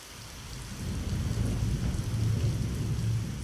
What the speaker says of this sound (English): a storm hit, flooding the town.